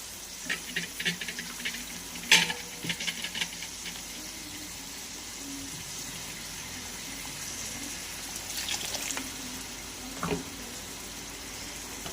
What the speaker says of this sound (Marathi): त्यामध्ये पाणी ओतून आपल्याला यावर पाणी घालायचं आहे